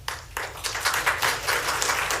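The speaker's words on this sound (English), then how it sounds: "I know you want to bust out with the applause" Applause rises in a family court public forum, a room full of hands clapping steadily at moderate volume for a couple of seconds.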